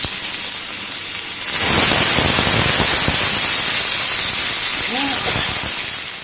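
Potatoes drop into hot mustard oil with cumin, dried chilli and bay leaf, and the oil bursts into a loud, steady sizzle that rises sharply and holds, with faint clatter of utensils.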